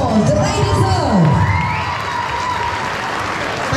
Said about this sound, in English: let's give these two a big round of applause that they deserve